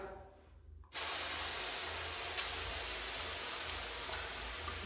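A steady, hissing spray of water from a pump sprayer used as a homemade shower starts abruptly after a second of quiet and continues evenly, close and fairly loud.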